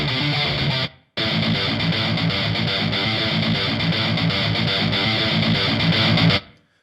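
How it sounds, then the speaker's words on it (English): A looped metal guitar riff from Sample Logic Cinematic Guitars Infinity plays loud and heavily distorted, chugging in a tight, driving rhythm, cut off by a short gap near the start and ending abruptly. "they're sort of full-on guitar riffs played with some crazy distortion there"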